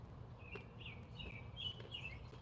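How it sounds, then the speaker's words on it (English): Faint, thin bird chirps and short whistled notes repeat in the distance over a low steady background hum. "you hear the birds and they sound beautiful."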